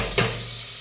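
Ghee hitting a hot pan, one sharp close splash-like onset followed by a steady hissing sizzle that slowly fades, with no speech.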